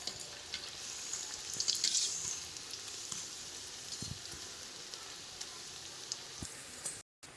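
Prawn fritters frying in hot oil, a steady close sizzle with faint crackles and a few soft clicks from a utensil, continuing evenly throughout.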